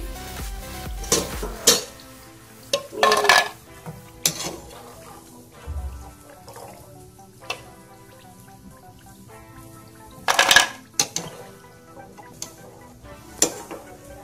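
Jhinuk pitha fry in oil in a pan, with scattered metallic clinks and scrapes of a utensil against the pan and a soft sizzle between, in sharp irregular bursts with no talk.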